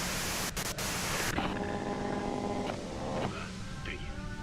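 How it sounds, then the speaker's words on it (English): Loud broadband white noise hiss fills the scene, steady and continuous, with faint muffled tones and background sounds underneath. "you can do it through the white noise."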